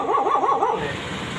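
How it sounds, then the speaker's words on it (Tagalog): A dog at a rural home gives a quick rising-and-falling series of high yelping barks, fairly close, fading into background noise after about a second. "Ayan, may alagang aso dito."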